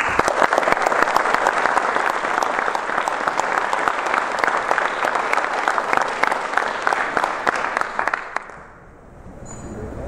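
An audience at a mayor's annual address bursts into sustained, dense applause, loud and even, which fades out near the end, followed by a brief quiet gap.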